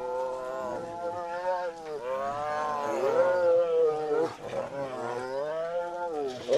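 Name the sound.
tigers roaring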